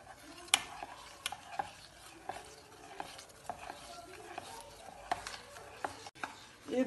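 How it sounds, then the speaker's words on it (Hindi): Masala idli batter with Eno stirred in one direction in a bowl, a spoon scraping and tapping in quick repeated strokes, close and fairly quiet with no voices. "जैसे मैं हिला रही हूँ ऐसे ही हिलाना है एक तरफ में।"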